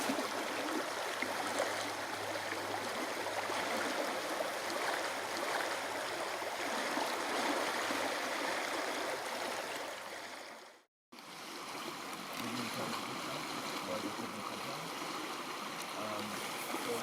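Rapids on a river rush steadily in the evening, a dense broad wash of flowing water that holds constant throughout, broken only by a brief total dropout near the middle.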